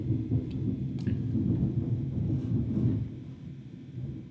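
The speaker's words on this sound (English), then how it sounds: "Oh, and now it's thundering!" Thunder in an online multiplayer party game, a low continuous rumble rolling steadily for several seconds with a couple of faint higher crackles near the start, no voices over it.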